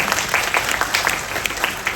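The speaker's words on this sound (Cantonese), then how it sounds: "我哋俾個掌聲呢個 consultant。" An audience at a product presentation claps for a consultant. Crisp, quick individual claps from a modest group form a lively patter that stays fairly even across two seconds.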